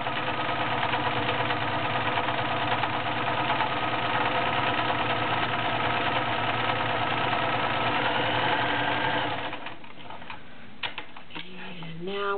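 A vintage 1980s Kenmore Ultra Stitch 12 sewing machine, model 1561, runs a blind stitch with a steady, close mechanical whir for about nine seconds, then stops, leaving a few faint clicks and handling sounds.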